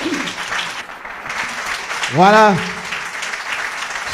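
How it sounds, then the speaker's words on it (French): An audience applauds at a talk on entrepreneurship and business mistakes, a steady wash of clapping running throughout while a voice rises briefly over it near the middle. "Est-ce qu'on peut applaudir?"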